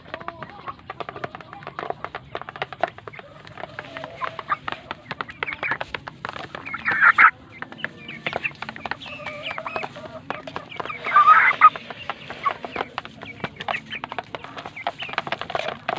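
Chickens cluck repeatedly in a busy, overlapping chorus close by, with a couple of louder squawks standing out.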